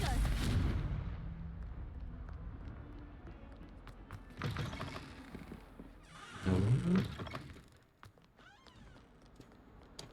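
Confringo blasting spell explosion in the Hogwarts Legacy video game: a sharp burst at the start, followed by a few rumbling impacts and crackling debris that fade out, with no voices.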